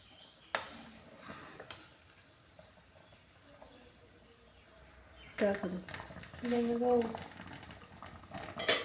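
Drumstick pod curry cooks in a covered pan, making a soft, steady sizzle and bubble with occasional clinks. A voice is heard toward the end.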